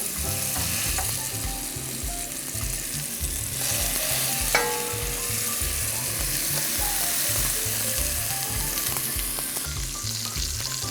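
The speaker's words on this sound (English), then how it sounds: "I'm gonna start with some olive oil. And I'm just gonna sear them until they're nice and browned." Short ribs sear in olive oil inside a Dutch oven, giving a steady, dense sizzle and crackle throughout, with occasional clinks and scrapes from the pan.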